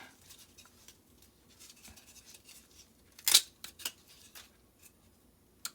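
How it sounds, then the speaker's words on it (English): Canvas being ripped off a wooden snowman frame kit, a series of dry scratchy tearing and snipping sounds with one loud sharp rip near the middle and a few softer ones after. "Just rip all that canvas off."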